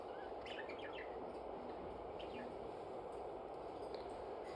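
Pet birds kept indoors chirp in short, light bursts scattered over a constant broadband background noise, fairly faint and with no talking.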